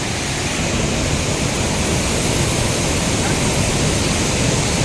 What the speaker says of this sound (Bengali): ডাউকি রিভার আর মৌলিলং গ্রাম যাওয়ার মাঝামাঝি জায়গায় এই ঝর্ণাটা